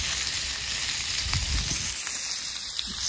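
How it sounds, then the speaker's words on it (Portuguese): Eggs and bacon fry in a pan at a cold morning campsite at Ginnie Springs, giving a steady, dense sizzle that stays close and continuous throughout with no talking. "Estou fazendo café e ovos com bacon, bem americano."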